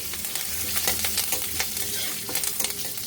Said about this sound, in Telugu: ఈ ఎండుమిర్చి వేగే వరకు 1 సెకండ్ అలా ఉంచాలి.